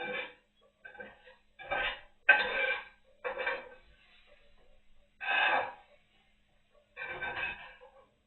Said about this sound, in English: I'm going to transfer the vegetables to a bowl, preferably a heat-safe bowl.